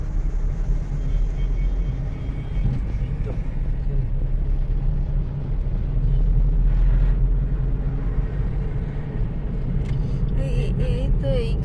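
A car pulls away slowly on a road after a jam near an accident site, its low engine rumble steady and close, with faint background traffic and no speech.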